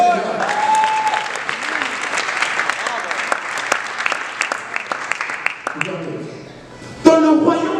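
A church congregation applauds during a French-language service, steady dense clapping with scattered louder claps, close and lively, briefly thinning before a final sharp burst, with voices mixed in.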